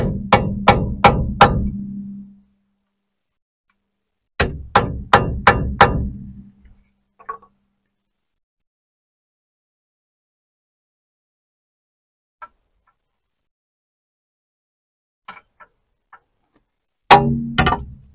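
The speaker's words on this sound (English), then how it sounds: "This chisel's actually cutting into the metal" A chisel is hammered into metal on the front brake of a Ford Cortina Mk3: two sharp bursts of about five ringing metallic strikes each, then a few scattered taps and one final blow amid silence.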